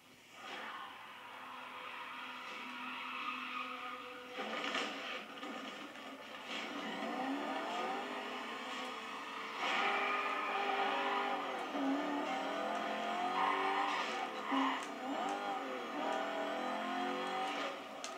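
Car engines rev and shift through the gearbox in the racing video game Need For Speed Carbon, whining engine tones rising and dropping with each gear change over a steady drone, moderately loud with no talk.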